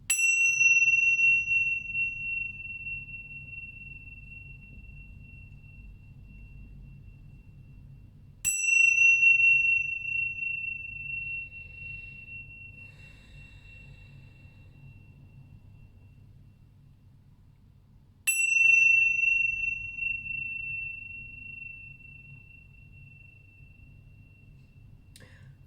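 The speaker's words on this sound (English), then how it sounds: "the second chime with the Tibetan symbols there really sort of awakened me" Three loud Tibetan cymbal chimes struck for space cleansing, each a bright metallic ding that rings out and slowly fades before the next strike, spaced roughly nine seconds apart over a low background hum.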